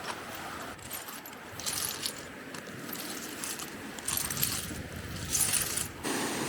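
Crunching, clinking steps over brittle coral fragments on a Caribbean beach, a bright jangling rattle with each stride, close by and fairly steady, over a soft background wash of waves.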